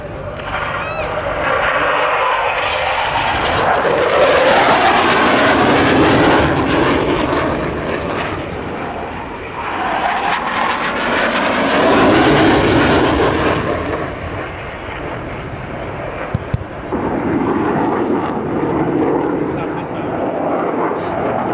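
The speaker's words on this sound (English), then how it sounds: "This will be delivered by Tornado F3" Tornado F3 jet aircraft flying past at an air show battle demonstration, a loud roaring engine noise that swells and fades over about twenty seconds, with a commentator talking over it on a loudspeaker.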